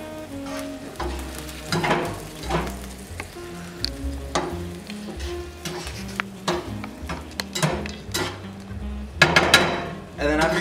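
Sauce from an entire jar being stirred and mixed in a pan, with repeated scraping and clinking of a utensil against the pan at an irregular rhythm, close and fairly loud, with occasional faint talk.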